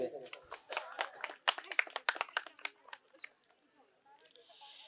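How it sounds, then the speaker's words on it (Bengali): Scattered audience applause at a quiz competition at Santiniketan Medical College and Hospital, with quick uneven claps that fade over a few seconds while voices murmur in the background. "সকলে করতালি দেবেন।"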